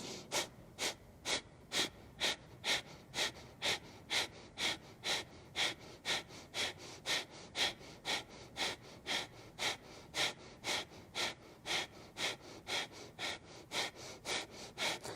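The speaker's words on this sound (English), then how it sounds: "bring in that breath of fire here" Rapid, rhythmic breath of fire from a yoga core practice, about two sharp forceful nasal exhales per second sustained steadily and close, with no talking.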